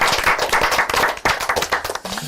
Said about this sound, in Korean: 하나님께 박수하겠습니다.